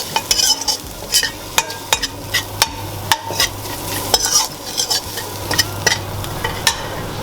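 Masala being stirred in a pan while it sizzles, a utensil scraping and knocking against the pan in irregular strokes over a continuous frying hiss, with no voices.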